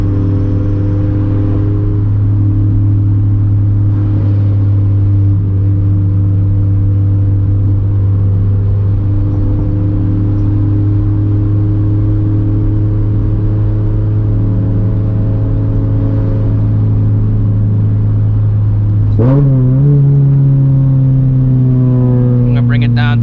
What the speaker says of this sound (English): Get around this corner, I'm gonna let her rip.